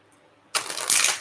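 Tarot cards being shuffled by hand, a short crisp riffle of paper cards after a near-silent pause, close and brief.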